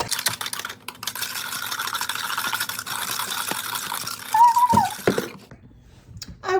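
Meatloaf sauce with brown sugar is stirred briskly in a bowl, a steady wet scraping and swishing close up, followed by a short high squeak and a few fainter clinks as the mixing stops.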